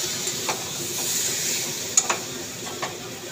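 Potatoes coated in spices and garam masala are stirred in a pan: a steady soft sizzle with a few sharp scrapes and clicks of the spoon against the pan, close and alone.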